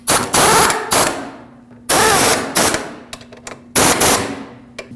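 A power tool snugs bolts into the aluminum knuckle of a 2006-2015 Lexus IS250 during a front lower ball joint replacement, loud close ratcheting bursts in three main runs separated by brief pauses and small clicks.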